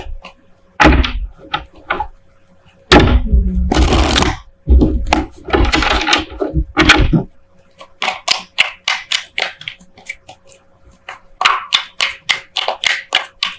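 Crisp riffling and slapping of tarot cards being shuffled in bursts, followed by a run of quick light taps and snaps, close and fairly loud.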